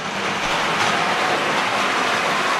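Steady rattling clatter of a Hornby Triang Rovex model train running along Peco track, continuous and close, with no voices.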